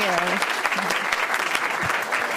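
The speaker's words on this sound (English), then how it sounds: "can I get everyone in the audience to give another round of applause for the podcast listeners?" Brief burst of audience applause at a live podcast recording, steady crowd clapping with a voice speaking faintly underneath.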